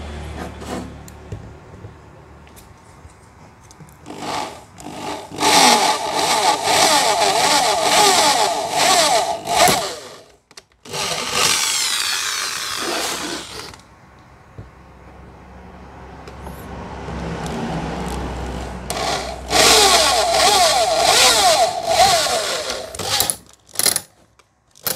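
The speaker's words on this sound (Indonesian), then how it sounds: "Kemudian kita bor dengan menggunakan mata bor yang ukuran 8 mili." Drilling into a sewing machine lamp mount with an 8 mm bit, a power drill whining in several loud bursts of a few seconds each, separated by brief pauses and handling noise.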